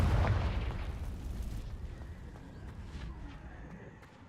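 A Confringo fire spell blasts in Hogwarts Legacy, a loud booming burst at the start that rolls off into a fading rumble with a few faint crackles trailing behind.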